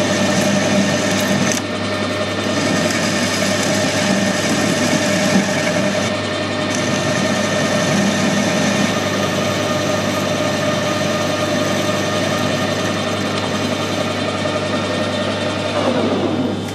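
A metal lathe cuts with a right-hand knife tool, giving a loud, steady mechanical whir and hum that runs unbroken throughout with slight shifts in tone.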